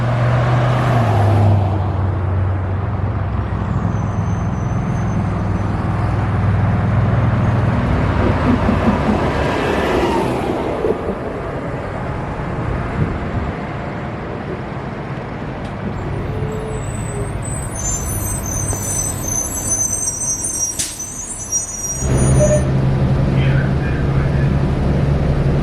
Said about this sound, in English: Big parade of buses, and the blue one is mine.